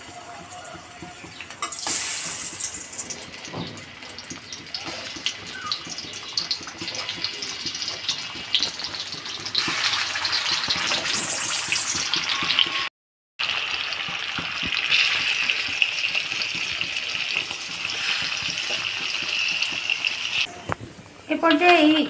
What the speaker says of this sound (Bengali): ওদিকে আমাদের কাঁকরোলটা ভাজা হতে থাকুক।